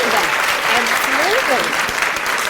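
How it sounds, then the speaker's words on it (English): Audience applause welcoming a guest at a live book event, a steady dense wash of clapping filling the room, with faint voices and a few brief tonal sounds layered underneath. "can we have a round of applause to welcome that?"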